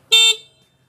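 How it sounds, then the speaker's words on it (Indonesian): Horn of a Viar Q1 electric motorcycle, a single short harmonic beep of about a quarter second, loud and close, fading quickly afterward. "klakson."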